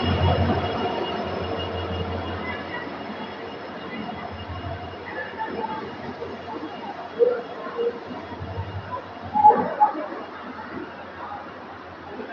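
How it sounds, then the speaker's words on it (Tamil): Low rumble of a WDP4 diesel locomotive slowly bringing a train into a station, with a steady engine drone, some clanks and faint voices in the background. "WDP40 ஒரு டீசல் லோகோ தான் நமக்கு வந்துருக்குதுங்க."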